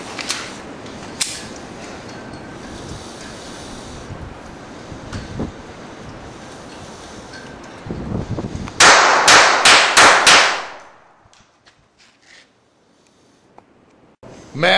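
A Colt 1908 .25 automatic pistol fired outdoors at a gun range: a quick string of about six sharp, loud cracks in close succession after a stretch of wind noise, then near silence.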